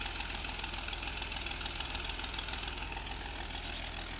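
A tractor engine drives a borewell pump on a village farm, a steady, dense, close-up idling chug with a rapid knocking pulse and no pauses.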